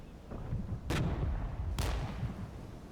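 Artillery fire support in the Regiments video game: two heavy booming artillery shots about a second apart over a low rumbling battlefield backdrop, with no talking.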